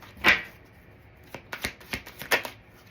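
A deck of playing cards being shuffled up close, with one sharp riffle burst followed by several quicker flicks and snaps, each a short crisp rattle with quiet gaps between.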